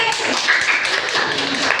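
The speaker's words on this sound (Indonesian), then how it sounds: "tepuk tangan kelompok Audi" Schoolchildren in a classroom clap for a group that has just finished presenting, a dense, steady patter of many hands lasting the whole moment at an even loudness.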